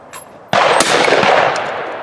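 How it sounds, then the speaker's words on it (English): A single shotgun blast at a sporting clays range, loud and close, as a clay target is shot at, followed by a long fading echo with no talking. "when you're right behind it and slightly underneath it, fire the gun"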